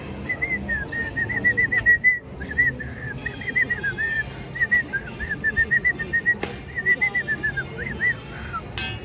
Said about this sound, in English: That's as good as I can whistle